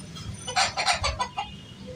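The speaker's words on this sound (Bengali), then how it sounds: "ওই যে মোরগ এখন তোমার মতো ঘুরে বেড়াচ্ছে" A rooster makes a short series of clucks, about half a dozen close, fairly loud calls in a quick rhythm, heard alone against a quiet outdoor background.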